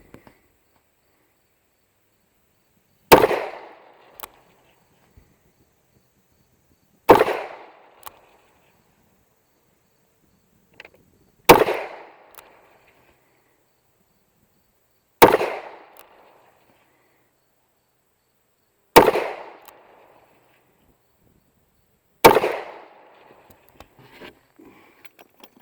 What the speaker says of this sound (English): See how this gun shoots at 30 feet.